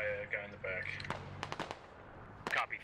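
Gunfire in the Squad video game, several sharp cracks and short rapid bursts scattered through the clip, some loud and close, mixed with radio tones and voices talking.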